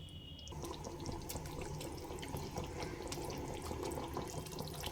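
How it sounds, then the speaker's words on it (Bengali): Hot water poured into a pot of desi chicken curry with new potatoes, a steady close splashing and gurgling stream running continuously after a brief quieter start, fairly soft, with no talking. "আমি আমার আন্দাজ মতো গরম জল দিয়ে দেব"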